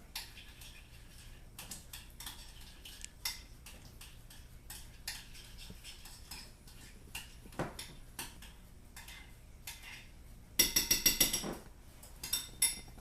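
A utensil clicks and taps against a dish while base ingredients for a creamy Philly potato dish are mixed, giving soft irregular scrapes and knocks, then a brief burst of rapid clattering near the end.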